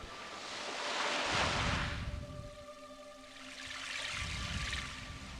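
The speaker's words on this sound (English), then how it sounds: "The sea coming up." Two slow swells of synthesizer-made surf rise and fall, a washing, hissing roar like waves rolling in, with a faint steady tone underneath.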